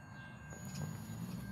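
A train rolls past on the tracks nearby, a steady low rumble and rattle of rail cars that holds throughout at moderate, even loudness with no voices.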